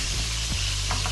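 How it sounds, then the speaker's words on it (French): Cherry tomatoes sizzle steadily in a hot frying pan, a close, continuous hiss and crackle with a faint scrape of stirring partway through; no voices. "mentre i pomodorini cominciano a sprizzolare"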